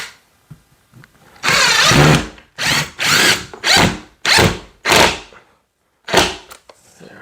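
A power drill drives a screw into the mounting bracket of an RGB LED wall sconce, running in a series of loud, close whirring bursts of about a second each with brief pauses between them.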